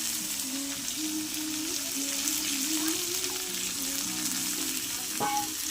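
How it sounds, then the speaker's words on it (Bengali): Onions sizzle and fry in hot oil for a mutton fat dish, a steady close crackling hiss that holds evenly throughout, with a brief clatter of stirring near the end. "তো দেখো ওই পেঁয়াজগুলোকে দিয়ে দিলাম তেলের মধ্যে।"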